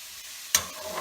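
A mushroom risotto pan on the stove bursts into a sudden sizzle and crackle after a near-silent moment, staying loud and frying briefly.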